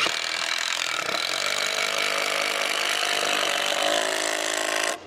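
A screw gun drives a U2 fastener screw into wood at a builders' trade show, a loud steady whine lasting about five seconds before stopping abruptly, with no talk over it.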